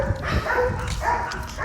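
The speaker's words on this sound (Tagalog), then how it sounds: "Ang daming aso na galit." Several dogs bark and yip nearby in an agitated burst, their calls overlapping briefly.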